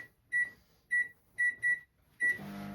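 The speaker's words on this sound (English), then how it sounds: "16 minutes is how long you pop it onto the microwave for" A microwave oven beeps five times in short, clear, separate tones as its keypad is pressed, then its steady hum starts as it begins running.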